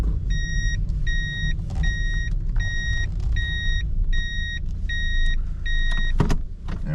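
A 1998 Toyota Levin Corolla coupe (JDM, right-hand drive) reverses into a parking spot, with eight evenly spaced beeps from the reversing warning sounding over a low, steady engine rumble, ending with a brief thump.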